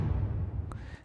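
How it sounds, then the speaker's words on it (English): Orchestral impact sample for a Dune-inspired electronic track: a heavy low boom rumbles under a sustained bed, with a bright sharp hit near the end, no voices present. "One is this orchestral impact"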